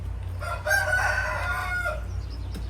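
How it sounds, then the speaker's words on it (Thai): A rooster crows once in a long drawn-out call over a steady low background hum. It sounds moderately near and is heard alone without speech. "เสียงไก่"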